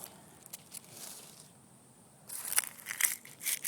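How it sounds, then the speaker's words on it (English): Dry leaves dropped into a fire pit at a survival campsite make soft, quiet crinkling and crunching, with a denser burst of crackly rustling toward the end. "since all of my leaves sort of fell into the pit, I'm going to put some more leaves in there"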